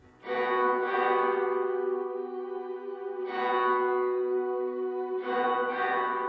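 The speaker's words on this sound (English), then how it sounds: "let's just listen to the reverb on the keys." Sustained keyboard chords ring out with a wide, washing reverb, three swells each fading into a long echoing tail, loud and alone.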